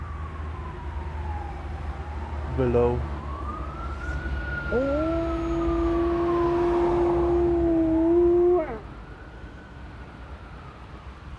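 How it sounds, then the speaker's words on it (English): An ambulance siren wails nearby, rising and falling and then holding a steady two-tone blare before cutting off, with a brief spoken word in between. "So there is a ambulance going"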